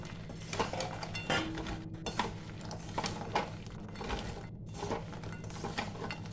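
Fried gaja sweets being tossed and coated in sugar syrup in a pan, giving soft scraping and occasional clinks of a utensil against metal, close and steady with no talking.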